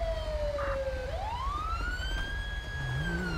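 A police car siren in a video game wails in a long rising and falling sweep, loud and continuous over a steady engine rumble, with no voices.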